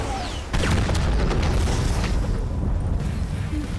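Explosion in a video game, a sudden loud boom that bursts in after half a second and rumbles on with heavy low-end debris and crackle, alone without talk.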